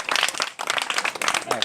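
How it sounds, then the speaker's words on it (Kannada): An audience claps at a government model primary school forest outing, a dense close-up patter of many hands that pauses briefly before resuming at full strength. "ಚಪ್ಪಾಳೆ"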